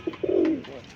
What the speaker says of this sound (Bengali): এটা বাঘা কবুতর